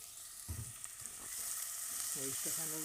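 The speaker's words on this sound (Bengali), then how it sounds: "এখন এটা নেড়ে এনে ভাজা হবে" Bottle gourd sizzles steadily as it stir-fries in a hot pan, with a few clatters of stirring and a brief burst of voice near the end.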